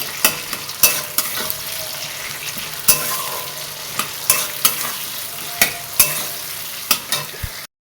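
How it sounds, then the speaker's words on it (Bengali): Egg curry masala with ginger paste sautés in a pan over a steady sizzle, broken by a loud spatula scrape or knock about every half second to second. "আদা বাটা দিয়ে ভালো করে কষাতে হবে"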